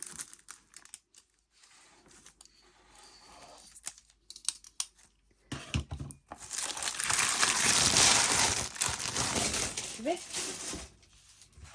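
Crinkly paper packaging on a dolls house part being torn and opened, with loud close crackling and rustling bursts after a quieter stretch of soft handling.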